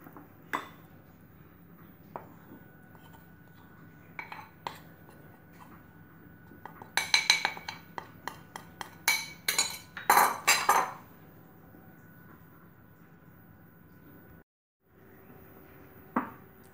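A utensil clinks against a bowl while green velvet cake batter is mixed, giving irregular bright taps and scrapes that cluster into a busier burst midway, close but fairly quiet over a steady background hum.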